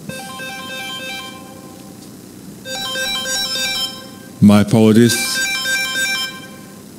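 A phone ringtone plays a repeating melodic pattern, stopping briefly and resuming, with a person speaking over it partway through.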